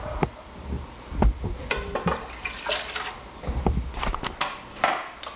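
Water splashes and trickles into a mixing bowl holding egg whites in uneven bursts, close up, with small clinks and pours over a few seconds.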